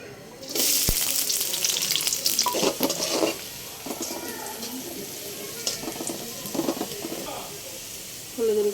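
Oil goes into a hot kadai for a Bengali ilish fish curry with kochur chhora, bursting into a loud sizzle, then settling into steady frying crackle with stirring scrapes, and a short renewed burst near the end.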